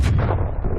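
A grenade detonates in Call of Duty: Black Ops Cold War multiplayer, producing a single loud, close, deep boom that rumbles and fades over under a second.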